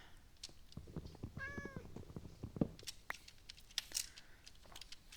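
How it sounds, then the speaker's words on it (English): A cat in a Minecraft modpack gives a single clear, fairly close meow midway, surrounded by soft clicks and small game noises in an otherwise quiet scene. "there's definitely a kitty here somewhere"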